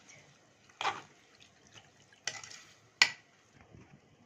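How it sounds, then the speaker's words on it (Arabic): Oil poured from a cup into a pot where lamb tail fat is being rendered with butter, cream and milk: three short, splashy pouring bursts with quiet gaps between. "وهحط كوبايه زيت"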